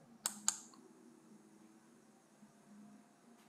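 Two sharp clicks of a computer mouse in quick succession, close and crisp, followed by a quiet room hum with no talking.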